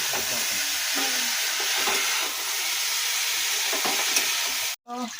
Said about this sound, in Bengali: বসিয়ে দিয়েছি কপিটা ভাপাতে